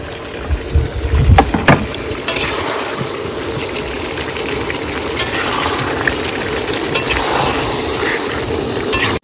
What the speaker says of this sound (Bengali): মাংস প্রায় কষানো হয়ে গেছে, এবার আলুগুলো দিয়ে দেবো।